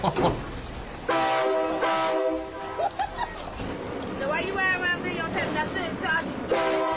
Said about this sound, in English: That's a train, not a bus.